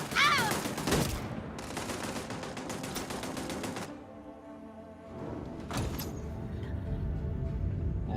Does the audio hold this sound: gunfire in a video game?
yes